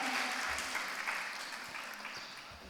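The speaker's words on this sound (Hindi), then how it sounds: "एक बार जोरदार ताली बजा के" An audience at a religious discourse gathering breaks into loud, sustained clapping that fades slightly toward the end, with no voices over it.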